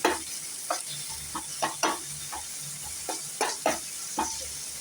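Finely chopped onions sautéing in a pan for masala dosa filling, a steady low sizzle broken by a dozen or so sharp scrapes of a spatula stirring, close and without talk.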